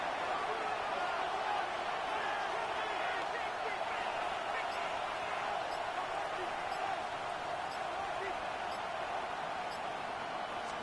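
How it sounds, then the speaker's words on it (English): Stadium crowd in Madden NFL 26 during a Cowboys at Panthers game, a dense, steady roar of many voices filling the whole stretch at moderate loudness, with no distinct cheers or breaks. "The crowd making their presence felt"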